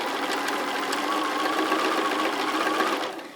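A sewing machine top stitching fabric for a basket, a fast steady mechanical whir running close and even for a few seconds before easing off at the end, no talk.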